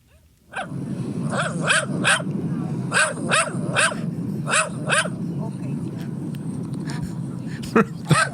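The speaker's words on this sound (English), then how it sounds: "this is what the dog sounded like for 30 minutes as we were landing" A dog barks and yips in a steady run of sharp repeated bursts aboard a plane during landing, set against a constant cabin drone, with a few louder yelps near the end.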